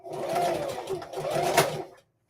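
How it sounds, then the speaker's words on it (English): A sewing machine stitches a seam half an inch down on a tote bag, two close bursts of whirring motor and needle with a brief slowdown between, then it stops. "So I'm sewing half an inch down."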